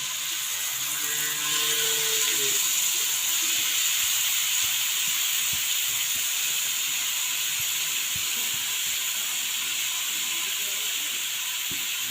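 Green chilies hitting a little hot oil give a continuous close hiss and sizzle that holds steady for several seconds, with faint low tonal hums early on.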